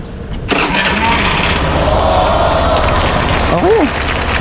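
Suzuki Burgman scooter engine starting after an idle-speed control reset, firing up abruptly and settling into a steady, loud idle close by, with a brief rising whine near the end.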